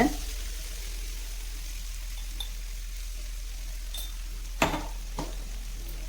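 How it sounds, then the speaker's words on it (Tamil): Green peas and onions sauté in a pan with a steady, soft sizzle, broken by a couple of sharp clinks of a utensil against the pan near the end, and no speech. "இப்போ இது வதங்கிட்டு இருக்கும்போது இதோட இப்போ இந்த பச்சை பட்டாணியோட ப கொஞ்சம் வதங்கியிருக்கு"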